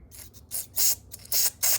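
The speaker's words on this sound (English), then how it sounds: "And we'll spray through it" Several short hissing bursts of aerosol spray into a snowblower part, close and loud, in quick succession with brief pauses between them.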